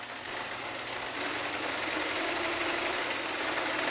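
A sewing machine runs steadily, stitching a half-inch seam joining the header to the body of a pillowcase, a continuous close hum and whir without pauses.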